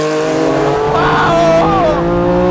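Lancia Stratos Group 4 rally car loud and close, engine note droning steadily as the rear slides out, with tire squeal rising and falling over the engine, shifting pitch near the middle.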